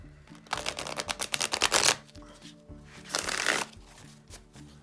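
A tarot deck is riffle-shuffled twice in quick succession, each pass a crisp burst of rapid flapping clicks with a short pause between them.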